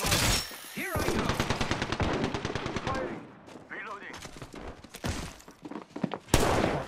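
Rapid automatic gunfire from an Apex Legends firefight, loud bursts of closely spaced shots followed by scattered single cracks and thuds, with sharp impacts near the end.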